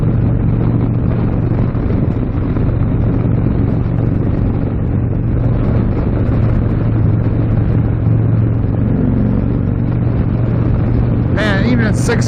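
An Indian Thunderstroke 116 Stage 3 motorcycle pulls in sixth gear, its steady, loud engine drone nearly buried under heavy wind rush, with a brief chirp near the end.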